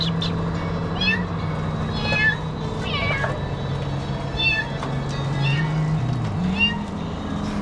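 Cats meowing on a street in Makati, Manila, several repeated close meows spaced through the clip over a steady low engine hum, with a person speaking faintly in the background.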